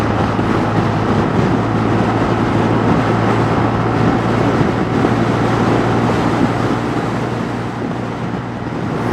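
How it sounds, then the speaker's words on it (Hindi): A Honda Hornet CB125 motorcycle with a 125 cc engine cruises at speed on a highway, giving a loud, steady roar of wind and engine drone that holds unbroken throughout, with no talking. "मुझे बिलीव खुद को नहीं हो रहा कि मैं 125 सीसी की बाइक चला रहा हूँ।"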